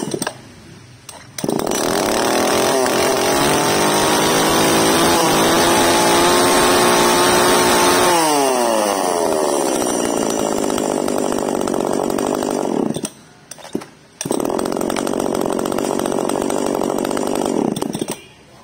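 K2 two-stroke gasoline chainsaw runs loud and close, revving high before dropping to a rougher, lower drone. It cuts out briefly twice and then resumes, with no talking over it.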